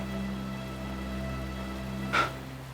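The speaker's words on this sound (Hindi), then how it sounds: "बाहर बारिश गिर रही है।" Steady rain falls outside a village home, a continuous soft hiss over a low hum with one brief brighter splash near the end; nobody speaks.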